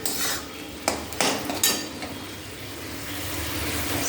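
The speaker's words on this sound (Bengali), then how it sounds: "শাকের চাপা দেওয়া ঢাকাটা খুলছি" Metal lid lifted off a pan of simmering leafy greens on a gas stove, a few sharp clanks and scrapes up close, then a soft steady background hiss.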